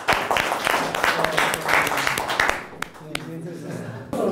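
Audience clapping in a neuroscience lecture hall, a brief burst of many claps that fades into scattered individual claps amid voices and room noise.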